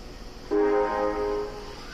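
An Osaka Metro Midosuji Line train at Umeda station sounds a single short, bright horn tone lasting about a second over quiet platform ambience.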